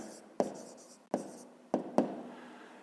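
A pen or pencil writes numbers by hand during a fifth-grade maths exercise, giving four short, sharp scratchy strokes with quiet pauses between them, close and alone without talk.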